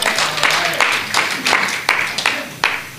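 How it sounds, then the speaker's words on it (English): A church congregation claps at a men's annual musical, scattered hand claps with a few sharper individual strikes standing out at irregular intervals against a murmuring room. "Let's give the Lord a hand clap."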